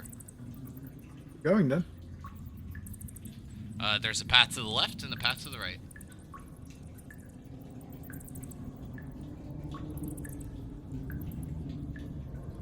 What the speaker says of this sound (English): You hear nothing besides the water.